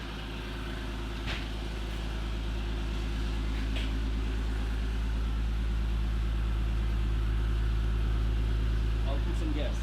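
A BMW E46 M3, freshly converted from SMG to a six-speed manual, idles just after its first start, a steady close engine rumble holding even and slowly swelling slightly louder.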